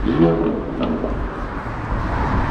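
Loud car exhaust rumbles by on Sunset Blvd in Hollywood, a steady close engine drone with a brief rising rev near the start.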